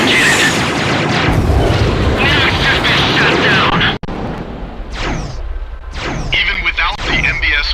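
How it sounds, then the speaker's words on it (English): Mision cannon firing in Ace Combat X, with heavy booming blasts and crashing impacts over a roaring battle din, followed by several sweeping whooshes, while a voice speaks over it. "Even without the MBSRs, the Mision cannon is extremely powerful."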